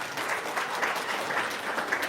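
An audience gives a short burst of steady applause, many hands clapping evenly at moderate volume, with faint voices mixed in.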